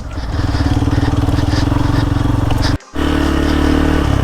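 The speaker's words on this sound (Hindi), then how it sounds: "ब्रेक मारती ही बाइक कितनी फिसलती है आज रोड पे।" A motorcycle rides and brakes on a slippery, loose-surfaced road in Nagaland, its engine chugging loudly and steadily up close, with a brief sharp dropout near the end before the rough drone resumes.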